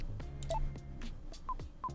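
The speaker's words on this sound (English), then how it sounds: "Let's go back to our desk, make an important phone call." Telephone dialing beeps from a video game, heard as a few short, clean tones spaced across the clip over a low, steady game background.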